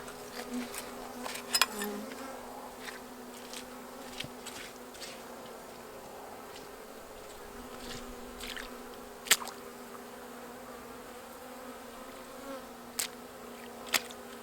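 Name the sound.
honey bees buzzing in hive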